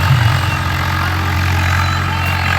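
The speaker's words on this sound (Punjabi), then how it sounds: "ਉਹ ਸਾਹਮਣੇ ਚੱਲ ਰਿਹਾ ਟਰੈਕਟਰ" Tractor engine running nearby in a dusty field, a steady low idling rumble with no breaks over a couple of seconds, no talking.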